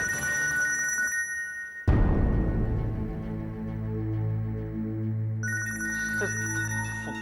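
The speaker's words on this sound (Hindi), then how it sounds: "फोन ले लो, घर से फोन आया।" A telephone rings in repeated electronic bursts, broken by a sudden loud hit that leaves a sustained low drone before the ringing resumes.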